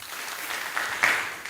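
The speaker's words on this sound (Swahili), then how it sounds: "tuwapigie makofi" Applause from an audience at a ward-level political candidates' debate, a dense steady patter of many hands clapping at close range for the whole moment, with no talk over it.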